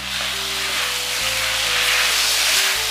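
Pork belly sizzles and hisses steadily in a hot wok after a splash of strong baijiu, with a dense, continuous frying noise and faint stirring close up.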